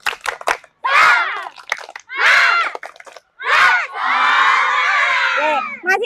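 Children chant and clap in rhythmic bursts in a classroom, with a longer sustained shout at the end and brief pauses between the chanted phrases.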